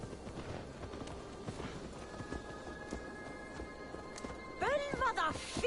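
A horse in Assassin's Creed Valhalla clip-clops at a walk with regular hoofbeats under talking, followed by a short whinny-like cry near the end.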